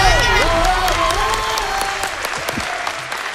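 A large audience at a Nepali televised dance competition claps in sustained, dense applause that slowly fades, with voices carrying over the clapping.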